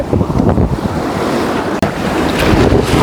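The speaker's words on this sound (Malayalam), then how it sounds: "അത്യാവശ്യം നല്ല വലിയ തിരയാണ് ഇവിടെ അടിക്കുന്നത്" Big ocean waves crash and roar at Kovalam beach, a loud, continuous surf wash mixed with heavy wind buffeting the microphone, with no voices over it.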